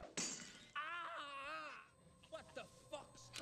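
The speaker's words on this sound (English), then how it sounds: "You just took a glass bottle to the head." A glass bottle smashed over someone's head in the horror film Howling 2: a sharp bright crash at the start, followed by a drawn-out wavering pained cry and then scattered softer vocal sounds.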